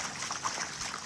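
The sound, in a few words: irrigation water from the fields flowing past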